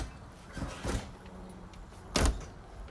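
The rear door of a wheelchair-ready van at a machinery auction is opened, giving a couple of muffled clunks and then a sharper, louder latch thump, heard close up against faint background noise.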